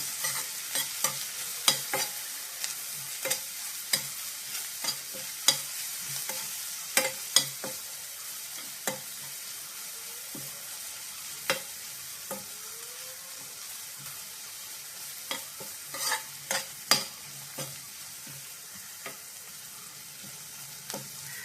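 Tomato, onion and curry leaves with salt being sautéed in a pan for a small sardine fry, a steady soft sizzle punctuated by frequent close spatula scrapes and clicks, no voices.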